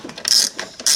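Ratchet wrench undoing bolts during an electric scooter disassembly gives short, close mechanical clicking bursts in a quick irregular rhythm.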